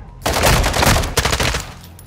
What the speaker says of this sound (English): Shoot it down.